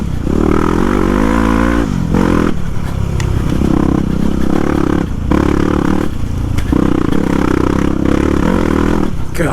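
Motorcycle engine revving hard on a muddy off-road swamp trail, loud and close, with repeated throttle blips and brief drops between surges over a steady rumble.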